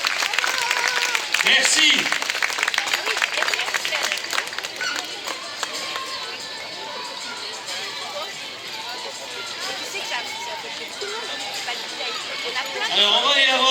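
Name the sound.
spectators applauding at marathon finish line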